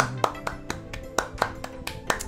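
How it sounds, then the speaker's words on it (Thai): A handful of sharp hand claps ring out in a steady rhythm, about one every half second, close and clear over a quiet background with no talking. "สุดยอดปรบมือ"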